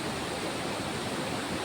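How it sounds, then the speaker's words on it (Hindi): A steady, broad rush of falling water from waterfalls in the forests of Meghalaya, continuous and fairly loud with no breaks and no voices. "और यहाँ पे बह रहे हैं झरने।"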